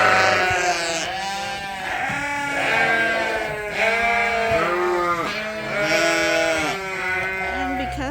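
Pregnant ewes bleat repeatedly in a barn or pasture setting, several loud, wavering calls overlapping one another close by, with a steady chorus of the flock throughout and no talking.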